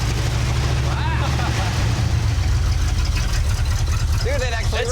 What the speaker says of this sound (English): it's loud and it's got exhaust leaks and all this other stuff